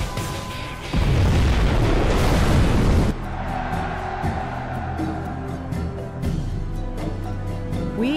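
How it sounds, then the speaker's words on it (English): Nuclear missile blast in C&C Generals Zero Hour, a dense roaring rumble lasting about two seconds, then fading into busy battlefield clatter and engine noise. "We have launched our nuclear missile."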